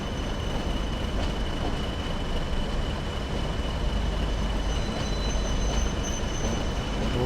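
A Class 40 diesel locomotive in Train Sim World 2020 rumbles steadily through a yard on the Northern Trans-Pennine route, with faint wheel squeal and a constant low, even drone, quiet and continuous.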